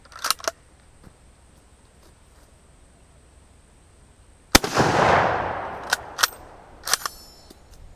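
A Terni Carcano 6.5x52mm rifle fires one sharp, loud report that rings out and decays over about a second, followed by a few quieter metallic clicks and clatters of the action, with near silence before the shot.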